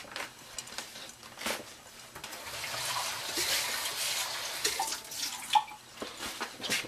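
Water poured into a hot pan under a glass lid with egg yolks, making a steady sizzling hiss with light drips and crackles that swells and holds for several seconds, close and moderately loud, with no talking.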